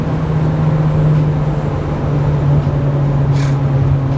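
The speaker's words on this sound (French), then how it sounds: "Avec l'échappement qui fait pa pa pa." A car being driven on a road gives off a steady, loud, low exhaust and engine drone with road noise, unbroken and close from inside the vehicle.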